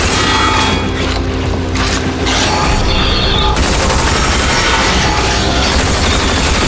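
Armor-piercing gun firing in the shooter game RAGE, a loud, dense run of shots and mechanical clatter that carries through the whole stretch with no gaps and no talking.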